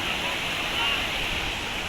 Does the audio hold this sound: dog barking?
no